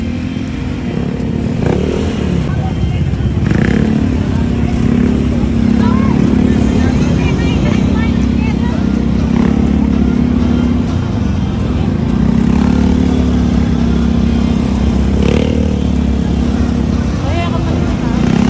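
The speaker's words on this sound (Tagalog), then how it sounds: "May traffic nga po yung 4-way." Busy four-way intersection traffic with motorcycles, tricycles and cars, a steady dense engine drone with occasional revving passes throughout, continuous and fairly loud, with people's voices and crowd chatter mixed in.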